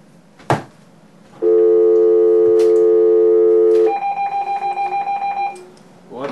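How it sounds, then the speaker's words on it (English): Telephone call being placed during a racing talk show: a long steady tone, then a quick run of pulsing dial or ring beeps, with a thump before and brief noise after. "All right, now call him back."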